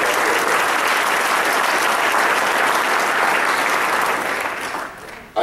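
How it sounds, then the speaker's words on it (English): Loud, dense applause from an audience at a Birmingham city symposium on smarter development, a continuous roar of many hands that holds steady, then drops off abruptly near the end. "So please give Bruce a big round of applause."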